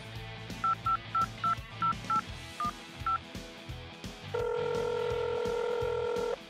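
A telephone keypad beeps out a number in about ten short, evenly paced tones, then a steady ringback tone holds; the sound is quiet and clear, with no talking.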